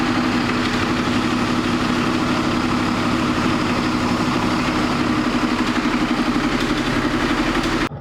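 Inboard engine of a Concorde Charisma boat idling steadily while the boat is gently manoeuvred, a loud, close, continuous low rumble with a throbbing beat that holds constant before cutting off at the very end.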